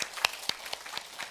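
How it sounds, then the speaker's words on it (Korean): Korean church congregation clapping during a Sunday service, a sparse, light patter of scattered claps heard from a distance at a slow, uneven pace. "우리 박수로 한번"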